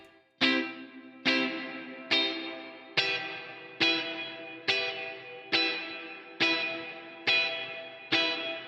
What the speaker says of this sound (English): Sounds more like an amp reverb